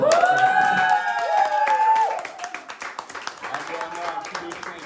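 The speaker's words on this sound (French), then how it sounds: "Vous pouvez aussi applaudir s'il vous plaît" Audience clapping at a French stand-up comedy show, the applause building into dense, sustained clapping as a voice talks over the first half.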